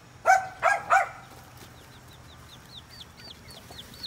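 Newly hatched baby chicks beside a broody hen: three loud clucks near the start, then a run of high, faint chick peeps repeating steadily to the end.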